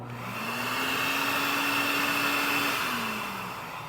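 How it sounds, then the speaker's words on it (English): A shop vacuum whirs up to a steady, loud motor roar, holds for a few seconds, then winds down. "I can turn this on and off from the vacuum itself"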